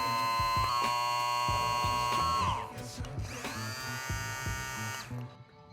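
A Kemei KM-1593 electric hair clipper buzzes close up with a bright, steady hum, briefly dropping off midway before a second run, then cutting out near the end.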